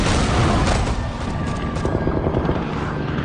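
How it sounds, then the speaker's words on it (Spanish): A continuous, dense roar of Vietnam War battle fills the clip, with heavy rumbling booms and crackling bursts that sound like distant gunfire and explosions. "El silbido de las balas, las bombas cayendo, la explosión de los proyectiles, la gente gritando."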